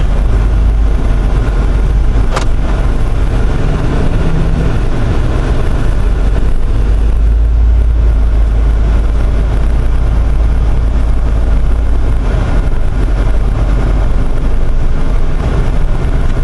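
An LS3 V8 swapped into a Jeep JK cruises on a morning street drive at low RPM. A loud, steady low engine drone fills the cabin with road and wind noise, unbroken for the whole stretch.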